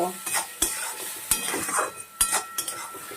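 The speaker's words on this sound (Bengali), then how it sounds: "স্বাদ মতো নুন দিচ্ছি ভালো করে মশলাটাকে কষিয়ে নেব" Spice paste with salt and chilli powder is stir-fried in a pan while pigeon meat is cooked, soft sizzling broken by sharp ladle clanks against the metal.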